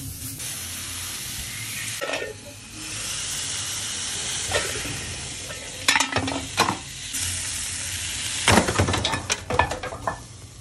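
Smash burger patty frying in oil in a pan, a steady broad sizzle throughout with several sharper crackling bursts and stirring scrapes, close and fairly loud, no voices.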